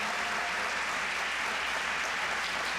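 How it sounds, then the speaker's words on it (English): Applause for award winners at an end-of-summer celebration: sustained clapping from a gathered crowd, dense and even throughout, with no voices over it. "let's give another round of applause for all our winners"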